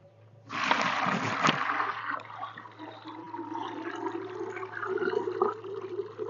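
Water gushes into a bucket in a sudden loud splash, then settles into a steady pouring rush with gurgling that continues throughout, no voices.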